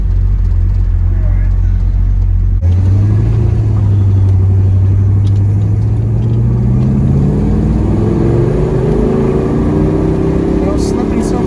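A 1967 Pontiac GTO with a three-speed automatic pulls away around a roundabout, a deep engine rumble rising steadily through the gears, close and loud throughout.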